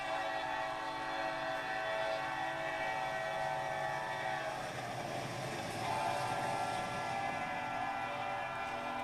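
A BNSF train runs the Montana Highline route in a train simulator, its steady rumble and rolling wheel noise carrying on under a sustained horn blast with no voices.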